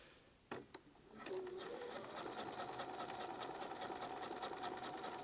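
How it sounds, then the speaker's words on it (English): A sewing machine set to straight stitch with a zipper foot makes a few soft clicks, then runs into a steady, rapid mechanical whir. The stitching hum stays even and fairly quiet to the end. "You want to make sure your machine is on a straight stitch. And then you just go."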